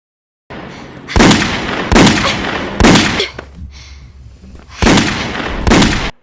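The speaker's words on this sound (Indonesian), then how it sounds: "Mereka berdua pun terus berlatih menembak" Loud, sharp gunshots crack out one after another at shooting practice, about five close-range blasts with short pauses between them and nothing else in between.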